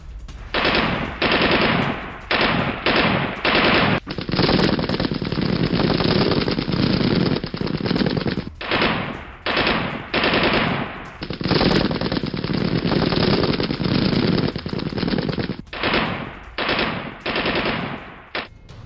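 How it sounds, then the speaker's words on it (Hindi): Long bursts of loud AK-47 automatic gunfire inside a supermarket in Donetsk, rapid cracking volleys repeating with short gaps between them, close and harsh. "AK-47 से फायरिंग।"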